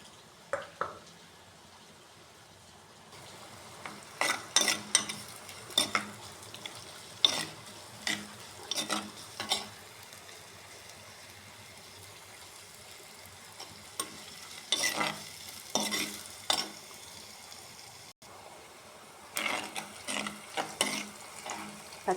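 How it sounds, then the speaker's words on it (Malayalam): Onions fry in hot oil in a pan for fish curry, a soft continuous sizzle broken by repeated scraping stirs of a spoon against the pan, fairly close and quiet. "എണ്ണ ചൂടായി വരുമ്പോൾ ഉള്ളി ഇട്ട് കൊടുക്കാം."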